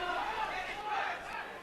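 A capacity crowd roars and chatters steadily at a kickboxing fight in the Empire Theatre, a dense continuous wash of cheering voices throughout.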